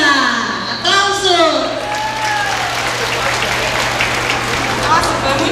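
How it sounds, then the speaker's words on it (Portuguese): An audience at a regional women farmers' gathering in Frederico Westphal breaks into steady applause that fills the whole stretch, while a voice speaks over the clapping at the start. "Aplauso!"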